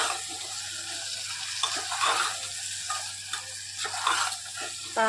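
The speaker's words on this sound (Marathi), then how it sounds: "आणि आता आपण जी तोंडली घेतली होती फ्राय करून ती सुद्धा ह्यामध्ये टाकून घेते छान मिक्स करायचे आहे" Fried ivy gourd (tondli) being stirred into masala in a pressure cooker, giving a soft, steady sizzle with scraping stir strokes at close range and no voices.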